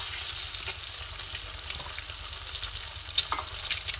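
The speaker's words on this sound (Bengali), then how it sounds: "এরপরে এই তেলের মধ্যে ডিমগুলোকে দিয়ে দিচ্ছি।" Chili-coated eggs dropped into hot oil sizzle and crackle steadily, a close, soft frying hiss with occasional stirring scrapes and pops.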